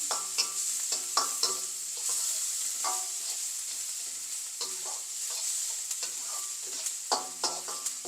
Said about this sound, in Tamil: இந்த பச்சை வாசனை போக எல்லாத்தையும் நாங்கள் கொஞ்சம் வதக்குவோம்.